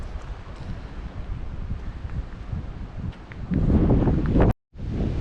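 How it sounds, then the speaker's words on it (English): Strong wind rushes and buffets the microphone continuously at Bourke, Australia, growing louder and gustier toward the end, with a brief cut-out near the close. "Still very windy here."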